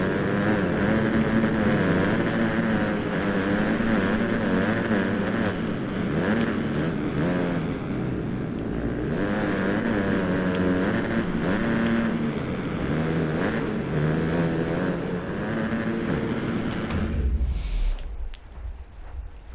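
Dirt bike engines race in the MXGP Pro motocross video game, a loud continuous buzzing roar that rises and falls with throttle and gear changes for most of the stretch, then cuts off abruptly near the end.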